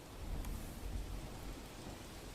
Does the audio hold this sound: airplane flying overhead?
no